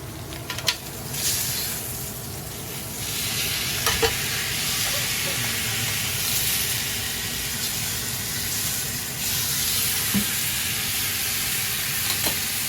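A tomahawk steak sizzles while grilling, giving a steady close frying hiss that runs throughout with a few faint clicks and no talk.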